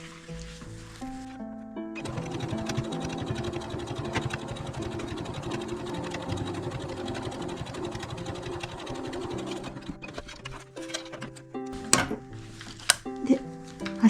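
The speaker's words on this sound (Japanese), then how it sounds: "ここまた端ミシンかけます" A sewing machine edge-stitching a zipper pouch runs in a steady continuous whir for about eight seconds, then stops, followed by a few light clicks and handling knocks.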